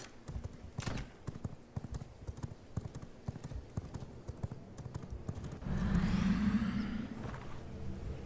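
Horse hooves clip-clop steadily along a road while riding home in the V Rising video game, with a louder rumbling stretch near the end.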